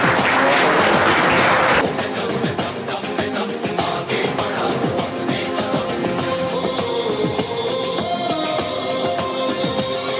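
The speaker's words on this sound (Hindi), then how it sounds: "एक बार खड़े होकर तालियां बजाकर" Children in a talk-show audience stand and clap in sustained, dense applause that stays loud and steady throughout, with no voices rising above it.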